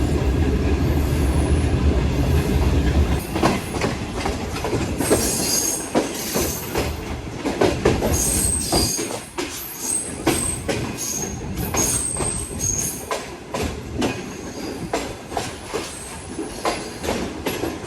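The 28 Down Shalimar Express pulls into platform 2 at Faisalabad railway station, with loud rumbling wheels, clattering carriages and high metallic squeals from the rails that continue steadily as it arrives.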